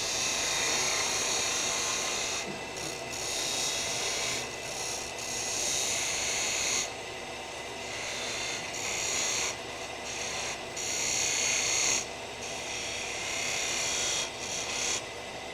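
A skew chisel cuts wood spinning on a lathe, giving a steady rasping whir with a motor drone beneath it. The cutting noise surges and drops back in short bursts as the tool meets the wood, close and fairly loud, with no talking.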